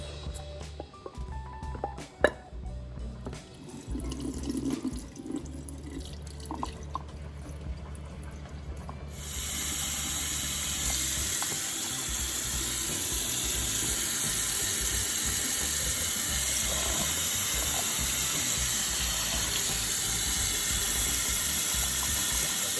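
Tomato, cucumber, cilantro and onion rinsed under a running kitchen tap, beginning with low clattering handling sounds, then a steady, loud rush of water pouring continuously into the sink.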